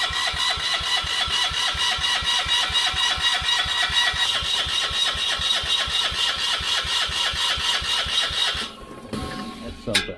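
A mini excavator engine with earlier engine trouble starts and runs with a loud, even, rapid chugging pulse close by, then the beat falters and cuts off near the end.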